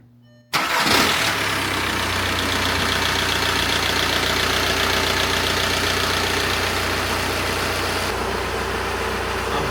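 A Volkswagen Jetta TDI diesel engine cranks and catches with a sudden roar, then settles into a loud, steady, rough idle in a garage that keeps rumbling and knocking.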